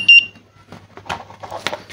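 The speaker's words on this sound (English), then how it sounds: "when the receiver is connected, you hear the beep of transmitter twice" Two quick high electronic beeps from a homemade STM32 and NRF24L01 RC transmitter sound at the start as its receiver connects, followed by faint clicks and handling noises against a low hum.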